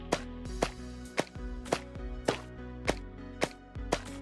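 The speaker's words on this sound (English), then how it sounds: "Placing water lilies." A series of short, soft plopping sounds of water lilies being placed in Minecraft, about eight evenly spaced taps over a steady background tone.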